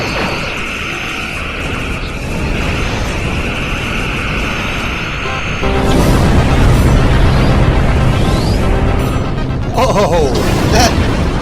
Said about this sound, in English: Dark matter torpedoes. Maximum yield full spread. Fire!